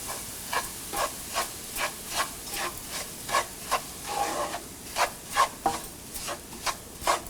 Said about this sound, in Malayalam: ഇനി നമുക്ക് നമ്മൾ എടുത്തു വെച്ചിരിക്കുന്ന റവ ഇതിലോട്ടിട്ട് നന്നായിട്ട് 2 മിനിറ്റോളം മിക്സ് ചെയ്യണം.